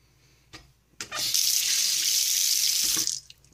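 Tap water running into a sink for washing off, a close, steady rush lasting about two seconds between brief clunks as it is turned on and off.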